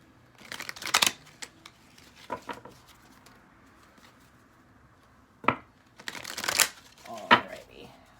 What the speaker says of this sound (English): We'll just shuffle a little bit and then we'll cut the deck